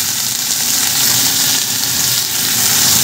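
Black cumin and bottle gourd peel fry in hot oil, giving a loud, dense, continuous sizzle with no break over a few seconds.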